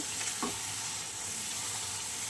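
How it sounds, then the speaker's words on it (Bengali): Spiced masala fries in hot oil in a pan, giving a steady soft sizzle throughout with a brief stir or scrape near the start; no voices. "এবার মশলা দিয়েও বেশ সুন্দরভাবে কষিয়ে নেব"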